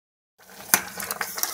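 Carrot halwa bubbles in a deep pressure cooker while a spoon stirs and scrapes against the metal pot, giving a few light clinks over a soft simmer after a brief silence.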